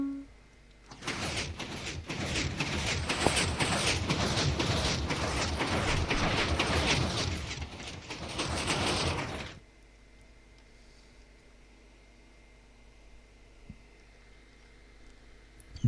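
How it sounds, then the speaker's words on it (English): A horizontal piston door in Minecraft slides open with a loud, steady mechanical grinding and clatter lasting about eight seconds, then cuts off sharply into near silence. "And now we should open the door."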